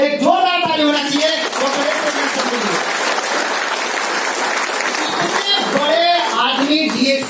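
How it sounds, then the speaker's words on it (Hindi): An audience breaks into loud, sustained clapping that fills the whole stretch, with voices talking over it at the start and end. "एक जोरदार ताली होना चाहिए।"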